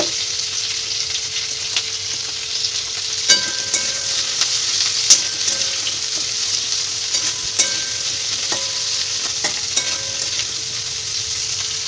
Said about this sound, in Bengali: সেটা একটু ভাজা করে নেব।